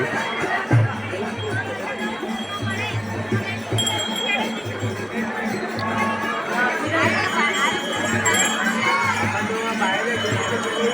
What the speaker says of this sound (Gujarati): જો કેટલી ભીડ છે અત્યારે